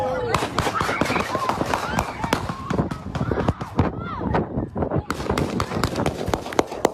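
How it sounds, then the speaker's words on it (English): Sharp cracking gunshots pop repeatedly amid a chaotic crowd as military police break up a fight, with shouting and screaming voices and running feet throughout. "gunshots ring out, sending people running."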